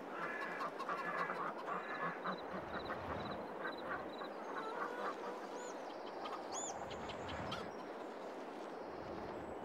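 Chickens on a farm in the video game Farming Simulator 22, with repeated clucking and squawking calls over a steady, busy barnyard background at moderate volume, no speech.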